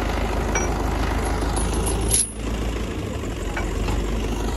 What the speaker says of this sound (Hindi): ये भाई चाचा वाला ट्रैक्टर है